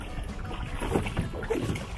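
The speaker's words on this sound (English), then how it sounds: "It's been a long time since I rode a boat." Small boat moving across water in a remote wilderness setting, a close, steady wash and rumble with wind buffeting the microphone for a couple of seconds, no clear talking.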